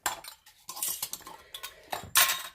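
A metal spoon clinks and scrapes against a dish while chicken is seasoned on a stovetop, several close, bright taps and rattles in irregular bursts with no talking.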